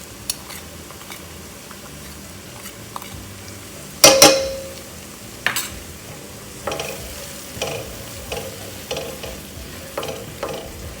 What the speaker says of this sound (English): Saute this ginger garlic paste until it's nicely aromatic.